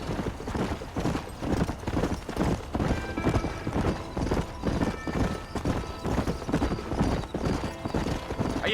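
A horse in the Red Dead Redemption video game gallops steadily with rhythmic hoof clip-clop close by, a few whinnies mixed in over a continuous bed of game music and ambience.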